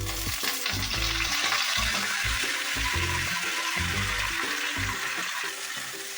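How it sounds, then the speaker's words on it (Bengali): Spinach stirred and fried in a pan for palak dal, a loud, close, continuous sizzle with rhythmic scraping and clattering of a spatula against the pan, without talk. "হালকা হাতে নেড়ে দিলাম পালং শাকটা"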